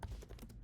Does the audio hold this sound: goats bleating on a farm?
no